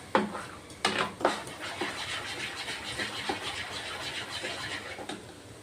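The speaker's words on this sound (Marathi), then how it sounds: "आणि असं चांगलं फेटायचं. 1-2 मिनिटं तरी फेटलं पाहिजे" A semolina batter is whisked briskly in a bowl, with a run of quick scraping and tapping strokes against the sides, a few sharper knocks near the start, steady and close-up.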